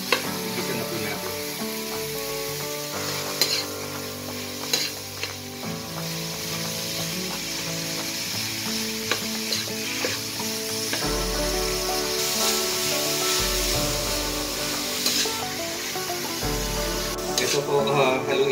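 Ground meat is sautéed in a pan with a constant, fairly loud sizzle, scraped and stirred by a utensil in irregular clinks, while low sounds and faint voices rise and fall in the background.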